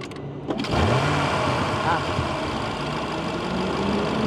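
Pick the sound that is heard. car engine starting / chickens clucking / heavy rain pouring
car engine starting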